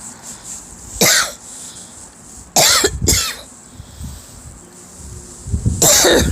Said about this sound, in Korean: 아이고 왜 이렇게 기침을 했어 너